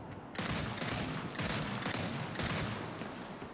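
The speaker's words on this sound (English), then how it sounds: "Actually, that's a two-shot burst weapon." Rapid gunfire from a two-shot burst weapon in the Gears 5 video game, several loud crackling bursts in quick succession over a dense background of battle noise.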